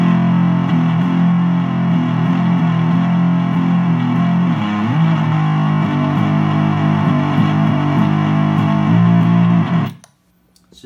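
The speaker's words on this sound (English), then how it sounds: "that gnarly mid-range from the Ibanez Super Fuzz in it" Electric guitar through an Ibanez Super Fuzz pedal chugs and sustains with a thick, distorted midrange tone, loud and continuous, cutting off abruptly near the end.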